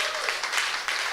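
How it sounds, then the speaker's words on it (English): A brief burst of audience applause at a cannabis industry event, dense clapping from a crowd heard for about a second. "I'd like to everybody give ourselves a round of applause for kind of being here."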